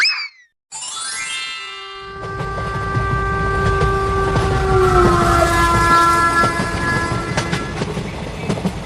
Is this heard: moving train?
yes